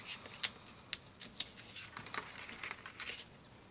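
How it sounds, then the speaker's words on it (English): A pen blade craft knife cutting through paper, a series of light, crisp scratching strokes and small ticks repeated across several passes, close and fairly quiet, with no talking. "little pen blade knife here, and I'm just going to roughly cut out a chunk out of the middle"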